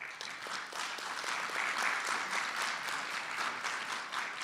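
An audience at a thought-leadership gathering in the Eastern Cape applauds a woman: dense, sustained clapping from many hands, steady and moderately loud throughout, with no speech.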